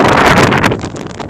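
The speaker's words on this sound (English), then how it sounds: "the wind is blowing a gale" Strong gale-force wind buffets the microphone in a loud, rough rush of noise that eases slightly toward the end of the brief burst.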